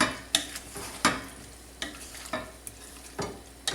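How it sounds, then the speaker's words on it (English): Chicken broth being stirred into flour in a pot for potato soup, with a spatula scraping the bottom in quiet, uneven strokes, each one a brief scrape. "I'm going to stir it in a little more, just so it starts working in with the flour."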